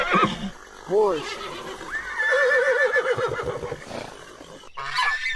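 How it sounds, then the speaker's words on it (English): A horse neighs and whinnies in a long wavering call close by, with some honking bird-like noises mixed in and no talking. "Horse. Horse."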